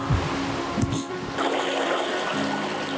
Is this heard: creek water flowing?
yes